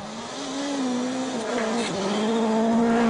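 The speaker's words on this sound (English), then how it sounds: "Terrific noise from these new World Rally cars." A World Rally car at Rally Sweden drives on snow, its engine holding a steady tone with gear changes and a brief rise, getting louder as it nears, without talk.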